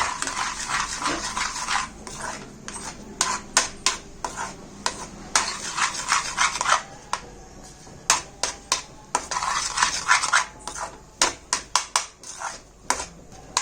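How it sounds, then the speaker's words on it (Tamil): Rava kesari being stirred with a metal spoon in a pan after boiled water is poured in, with repeated clinking and scraping strokes against the pan in irregular bursts over a faint steady simmer, close up, no talking. "நம்ம அந்த பாயில் ஆன வாட்டரை ஊத்திட்டு நல்லா கிளறி விடணும்."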